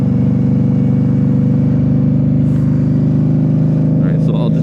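A stopped motorcycle's engine idles steadily in the foreground, a constant low rumble that runs through the whole stretch, with a few faint clicks and shifts near the end.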